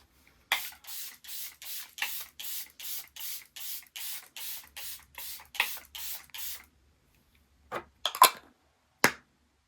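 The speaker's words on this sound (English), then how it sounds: "But the last step is setting spray." Makeup setting spray misted in about fourteen quick, evenly spaced pump bursts, close and soft, followed after a pause by a few scattered sharper hisses.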